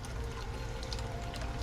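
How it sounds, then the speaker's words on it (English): A water fountain's stream flows in a steady, continuous wash of splashing water, close and unbroken, with no voices. "I go back to the focus of the water, the actual water fountain itself"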